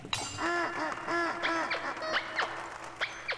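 A duck in the video game Tsioque quacks repeatedly in quick, nasal bursts, with several calls bunched together then a few spaced ones, fairly soft and close.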